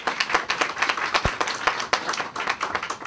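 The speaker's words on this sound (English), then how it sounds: "Round of applause for the Dean." A short burst of brisk, close hand clapping from a small crowd at a ribbon-cutting ceremony. The claps are sharp and fairly rhythmic, with one stronger clap standing out partway through.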